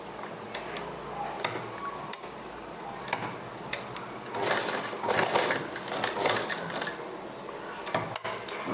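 A sewing machine stitches potli buttons onto puff sleeves in short, steady runs, with rapid ticking needle strikes and a few sharper clicks, close and clear with no talking.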